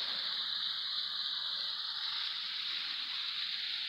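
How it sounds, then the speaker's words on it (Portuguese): A forest waterfall pours steadily in a constant, bright hiss of falling water that fills the whole stretch without pause. "olha a queda de água lá"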